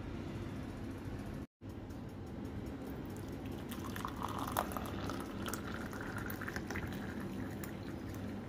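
Food boiling in a pot for a breakfast: a continuous low bubbling roil, close and steady, with a brief dropout early on and no talk.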